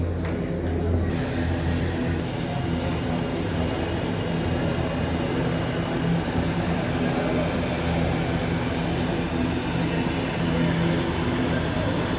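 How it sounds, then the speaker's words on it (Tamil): An airplane arriving at an airport gives off a steady, broad engine roar that holds at an even level without letting up. "இப்போ ஃப்ளைட் வந்துட்டு"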